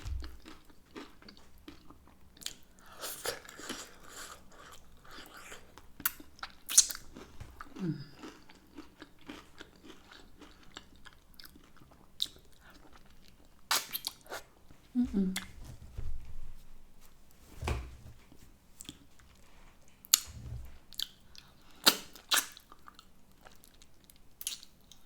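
Hot and spicy chicken wings being eaten close up, with quiet, intermittent crunching bites and wet chewing spread over a stretch of near silence.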